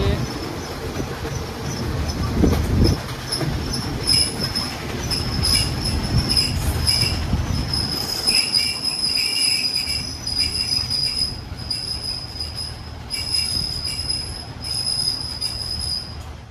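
A Daewoo diesel railcar running as an express train in Thailand, its wheels squealing loudly and steadily over the rumble of the moving cars, with a faint buzz of insects audible throughout.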